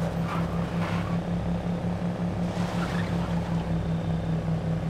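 A car engine in the zombie survival game State of Decay hums at a steady idle-like drone, loud and constant for a few seconds, with faint rumbling texture and no voices.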